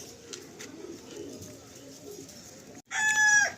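Sulemani pigeons, a rare big-size breed, in a low steady background of coos and bird calls, then a brief louder burst near the end with a bright tonal note over it.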